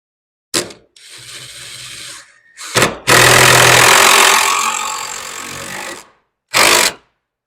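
Power driver sinking screws into wood while assembling a hexagon raised garden bed, heard as a few short bursts followed by one long, loud, continuous whirring drive, then a final brief burst, with no talking.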